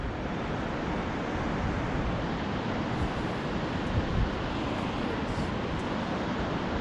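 Ocean waves rolling onto the beach at Kalaloch Lodge in a constant, rushing wash, with wind blowing across the microphone and no voices.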